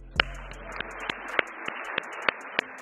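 Sparse audience clapping at a talk with football coach Deion "Coach Prime" Sanders at CU, a handful of separate sharp claps spaced unevenly over a few seconds, fairly close and never building into full applause.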